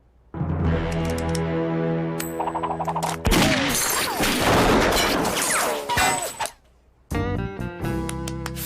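Cartoon gunfire as Lucky Luke shows off his marksmanship, a burst of sharp cracks and crashing impacts over a loud scored backdrop, broken by a brief pause before music resumes.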